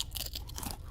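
Close, crunchy chewing sounds come through in a video game, with a quick run of wet bites and crunches and no talking.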